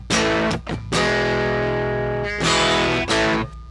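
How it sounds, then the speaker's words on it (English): Electric guitar with distortion plays muted strums, a few sharp choked chord hits followed by longer sustained notes, loud and close with no talking. "You have muted strum."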